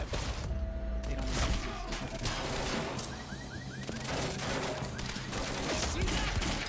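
Sustained gunfire in a firefight in the game Quantum Break, dense overlapping shots and thuds running continuously and loudly throughout, with a faint voice underneath.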